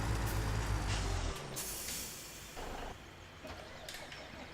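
A truck air brake hisses in Farming Simulator 17 as a truck is pulled off to the side, a loud low burst at the start that gives way to quieter engine and ambient noise.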